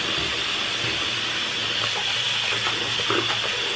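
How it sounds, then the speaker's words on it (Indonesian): Hot water runs steadily from a tap into a container to soak furniture parts, giving a continuous close splashing rush with no voices. "Jadi rendam, saya gunakan air panas"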